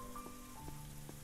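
Rain falling in a video game: a faint, steady patter of drops on a surface beneath a low sustained tonal hum, with a few soft separate plinks standing out.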